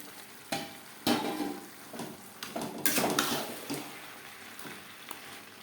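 Fish head dropped into a pan of potatoes, rice and spices for Bengali muri ghonto, giving a sudden clatter and sizzle followed by stirring and scraping of utensils against the pan, close and moderately loud.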